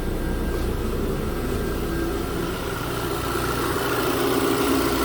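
A 2010 Volkswagen Tiguan engine idles steadily after running for about half an hour, a constant low hum and drone with no speech over it.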